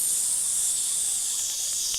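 A human voice imitates an aerosol spray, producing a steady, continuous hiss lasting about two seconds, fairly loud and alone with no other sounds.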